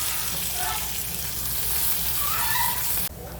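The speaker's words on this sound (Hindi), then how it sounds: "चावल को भुनेंगे 5 मिनट तक इसी के अंदर।" Rice roasting in a pan for khichdi gives a steady, close sizzle with faint scraping from stirring, running without pause until it stops abruptly near the end.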